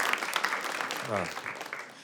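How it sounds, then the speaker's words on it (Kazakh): An audience claps at a Kazakh-language stand-up comedy show, with a patter of scattered, fairly light applause under a speaking voice. "Шапалақ соғып қойсаңыздар."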